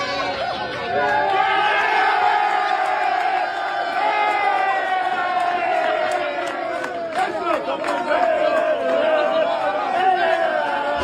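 Group of men cheering together, loud and close, a sustained chorus of whooping, bellowing voices that swells and dips over about ten seconds, with scattered shouts on top.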